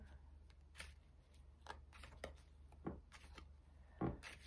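Playing cards are shuffled in quick riffling bursts, a series of crisp flutters and taps heard close up against a faint background hum.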